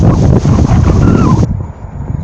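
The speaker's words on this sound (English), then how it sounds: "Windy here today as well, as you can gather." Strong gusts buffet an outdoor microphone on a station platform, a loud low rumbling roar that cuts off abruptly partway through, leaving a quieter, thinner background.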